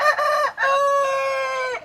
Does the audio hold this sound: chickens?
yes